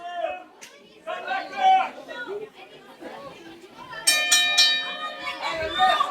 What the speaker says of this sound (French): Et son de la cloche.